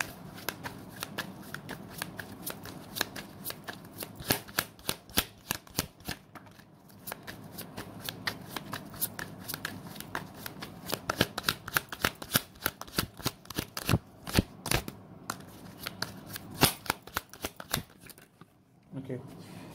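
Tarot cards are shuffled by hand in a steady run of crisp riffles and slaps lasting nearly twenty seconds, close and clear, while a person talks over it.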